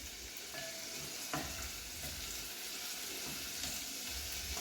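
Onion sautés in a pan as the base of a Goan pomfret curry, a quiet, steady sizzle with faint stirring scrapes and no talking.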